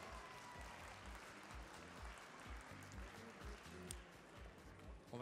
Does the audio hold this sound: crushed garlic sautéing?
no